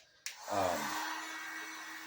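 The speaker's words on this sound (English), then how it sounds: "I like to let this get warm before I start welding" A heat gun starts with a click and then blows a steady, airy whoosh as it warms foam to heat-seal a LARP mace, settling into a constant hiss after a brief rising surge.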